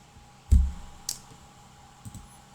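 A computer mouse clicks while working in an Excel spreadsheet: three separate short, sharp clicks, close up and fairly quiet, spaced about half a second to a second apart, with no talking.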